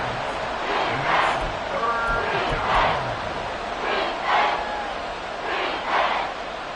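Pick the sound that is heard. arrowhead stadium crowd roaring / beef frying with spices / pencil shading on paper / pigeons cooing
arrowhead stadium crowd roaring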